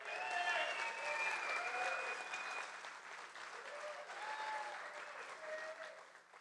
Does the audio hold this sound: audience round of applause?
yes